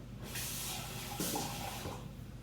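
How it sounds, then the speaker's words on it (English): Water pouring into a bowl of dry tamale dough ingredients, including salt and butter, for black bean tamales: a steady close hiss and splash lasting a couple of seconds, with no talking. "I'm going to grab a little bit of water here and mix it up"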